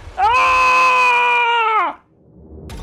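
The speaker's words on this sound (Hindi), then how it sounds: "चीख से गूंज उठा स्टेशन" A long, loud, high-pitched scream held steady for nearly two seconds, then cut off abruptly, leaving quiet background noise.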